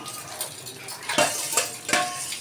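Chicken pieces tipped into a pot for a home-style spicy chicken kosha, with a run of metallic clanks and scraping as a utensil knocks against the pot, several sharper hits standing out.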